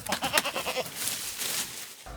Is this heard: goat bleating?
yes